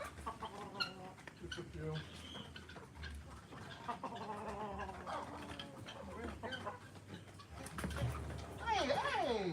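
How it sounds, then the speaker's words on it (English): Chickens cluck in a backyard flock, repeated calls close by mixed with other fowl sounds, while people talk over them; a louder burst of calls comes near the end. "We don't have many birds."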